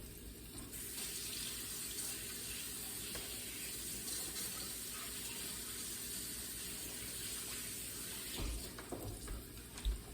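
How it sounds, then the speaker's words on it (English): Kitchen tap water runs steadily for hand washing, a constant close hiss and splash that holds through the whole stretch, with a few clunks near the end. "let me go here and wash my hands"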